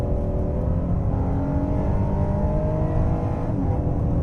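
A 2020 Honda Pilot Black Edition SUV accelerates hard from a brake-held launch, its engine a loud, continuous rising roar heard from inside the cabin throughout.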